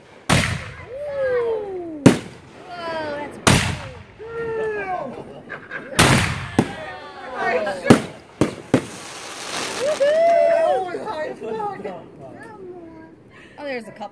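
Backyard fireworks boom in a series of loud, sharp explosions spread over several seconds, with excited voices and kids' chatter throughout.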